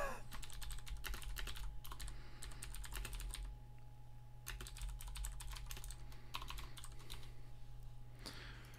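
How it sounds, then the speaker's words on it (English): Someone types on a computer keyboard during a Magic Online Legacy Cube draft. Quiet bursts of rapid clicking key presses are broken by short pauses, over a low steady hum. "They're typing. You can tell when they're typing,"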